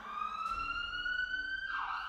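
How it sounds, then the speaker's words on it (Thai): A police car siren used as a sound effect in a Thai audio story wails in a single rising sweep and then dips, clear and moderately loud against quiet background, with no voices. "รถหมายเลข 12 เปิดเสียงไซเรนอีกรอบแล้วขับช้าๆไปข้างหน้า"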